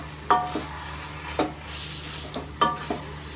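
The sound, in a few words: stirring jackfruit sabzi sizzling in a pan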